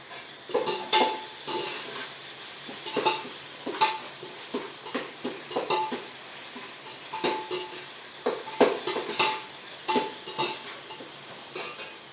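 Ginger and garlic sautéed in a pan, a soft continuous sizzle under repeated sharp scrapes and clinks of a utensil stirring against the metal, spaced at an irregular rhythm.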